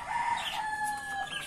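Chickens in a home garden where eggshells and leaves are buried as compost, one bird giving a drawn-out, crow-like call with clucking mixed in, fairly close and steady, with no voices.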